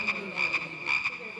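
A human voice imitates a frog croaking with a quick run of about four rhythmic, nasal croaks, close and clear, with no other sound around it.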